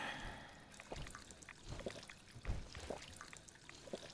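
Purified water pouring in Fallout 4, a faint, uneven trickle with soft splashy bursts running through the whole stretch, no voices over it.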